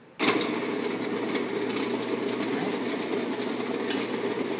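A lathe starts up and cuts stock into a cylinder, with a steady, loud, continuous machine whir and rattle that begins abruptly and holds without pause.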